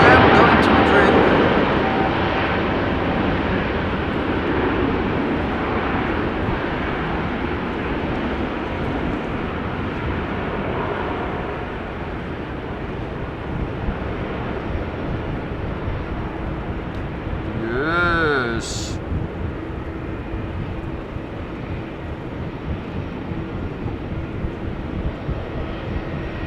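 A KLM Airbus A321 bound for Madrid passes at rainy Amsterdam Schiphol Airport, a broad engine rumble that is loudest at first and slowly fades, with a voice talking over it and a brief warbling tone near the end.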